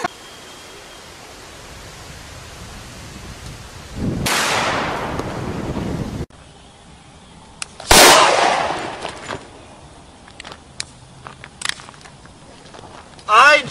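An accidental self-inflicted gunshot in a gun-fail incident. Two sharp, loud bangs stand out several seconds apart over quiet background noise, followed by smaller clatters.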